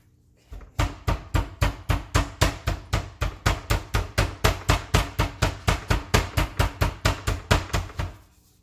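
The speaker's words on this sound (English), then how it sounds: "And then we are going to take our meat tenderizer and flatten it out." Meat tenderizer pounding chicken breast flat on a board, about thirty loud, evenly spaced thuds in a fast steady rhythm, close and alone.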